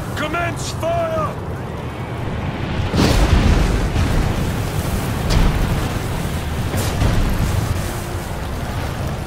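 Arrows and projectiles loosed by archers in the Roman battle game Ryse: Son of Rome, rumbling through a loud, dense wash of battle noise with repeated heavy booming impacts.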